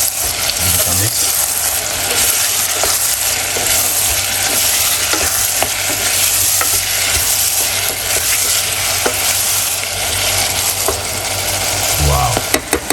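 Food is stirred in a sizzling cooking pan, a loud close frying hiss with utensil scrapes and light clinks, ending in a couple of sharper knocks against the pan.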